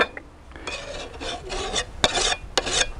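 A metal hand file rasping along the bevel of a garden tool, several rhythmic close strokes in quick succession, loud and alone.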